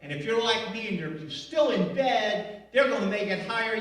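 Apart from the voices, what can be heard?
No everyday noises stand out.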